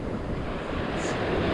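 Ocean surf washes steadily onto the beach at Manasota Key, Florida, a continuous broad roar mixed with wind buffeting the microphone, with no voices.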